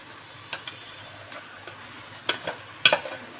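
A utensil stirs an aloo potato stir-fry with dried and green chillies in a pan. Soft scraping and light ticking clinks repeat irregularly over a faint sizzle, close and fairly quiet, with no talking.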